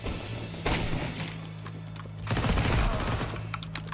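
Gunfire from the video game Counter-Strike 2, with bursts of shots cracking over a steady low game hum, a dense volley early on and a heavier barrage in the second half.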